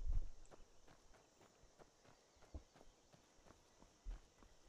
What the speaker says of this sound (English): Blasted horse.